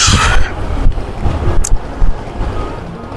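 Strong wind buffets the microphone on Himchhari hill above the sea at Cox's Bazar, a loud continuous roar with gusty swells and low rumble, no voices.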